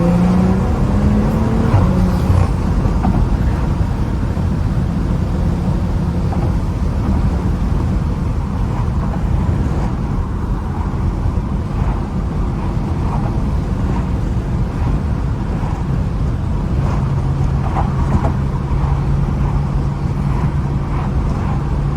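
A BMW F30 car drives with a steady low engine and road rumble inside the cabin, shifting gears by paddle shifter, with a constant broadband drone and a few brief tonal changes.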